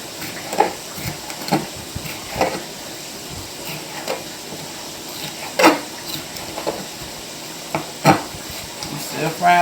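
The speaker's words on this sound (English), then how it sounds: "I'm still frying them old chops over there." Pork chops frying in a pot, a steady low sizzle with scattered clinks and stirring knocks of utensils against cookware, close and moderately loud throughout.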